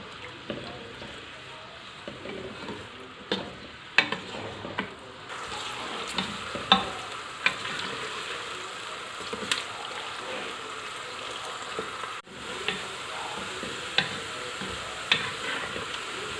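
Sliced onions fry in oil inside a pressure cooker, a moderate, even sizzle with sharp stirring clicks and knocks scattered through; the sound grows fuller partway in.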